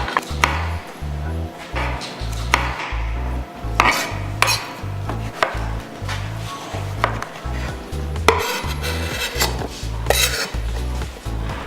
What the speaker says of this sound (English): You want to take about 1 pound of nice, fresh, beautiful strawberries, slice them up.